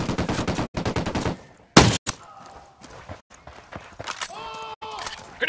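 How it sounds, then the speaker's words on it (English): In Ghost Recon Wildlands, rapid automatic gunfire rattles out in sharp bursts, with loud cracking shots, short pauses between volleys and scattered thuds. A voice speaks briefly amid the shooting. "Opening fire on these fuckers."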